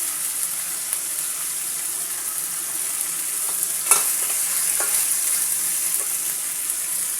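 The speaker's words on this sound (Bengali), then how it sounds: "আমি মশলাটাকে ভালো করে কষিয়ে নিচ্ছি।" A spice paste with bay leaf fries in a pot for beef khichuri, giving a continuous, even sizzle with one brief clink of stirring partway through.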